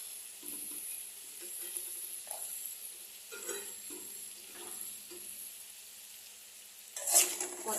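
Green peas tipped into a pan of spice mix fried in oil, a quiet crackling sizzle with a few small spurts and stirring scrapes, then a louder splash of sizzle near the end, close and with no talk.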